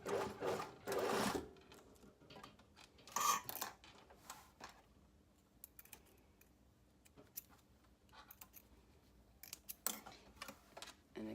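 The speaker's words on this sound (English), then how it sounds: "I'm going to stitch almost on top of the stitching line" Sewing machine stitching fabric along a stitching line on a wrap, faint short runs of rapid mechanical clatter between quiet handling noises and small clicks.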